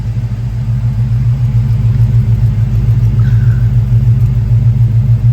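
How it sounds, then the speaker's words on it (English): A 1969 American Motors AMX exhaust idles with a deep, steady low rumble, close by and loud, holding a constant throaty note throughout. "Let's go take a listen to that sound from that exhaust."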